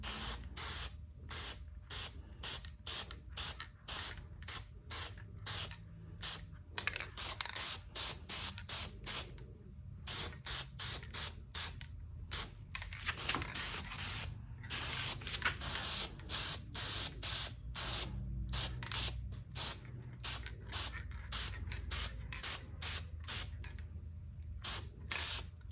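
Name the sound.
spray painting with black paint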